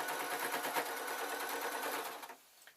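A sewing machine stitches over a skirt hem in a quick, even whir of needle strokes close by, running steadily for about two seconds and then stopping, with no talk.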